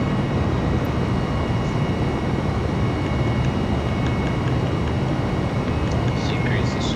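Airliner taking off in Microsoft Flight Simulator 2020, a steady loud broadband roar of jet engines holding throughout with no break.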